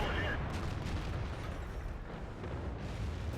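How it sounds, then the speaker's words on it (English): An artillery shell lands near a T57 Heavy tank in a tank battle game on the Live Oaks map, a broad rumbling blast of noise that fills the clip with a dull, sustained roar. "the artillery just missed"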